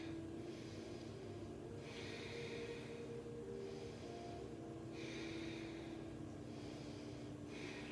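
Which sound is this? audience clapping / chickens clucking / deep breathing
deep breathing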